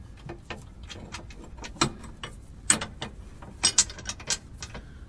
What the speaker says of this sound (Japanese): そしたらあとはボルトをちょっと戻していくだけなんで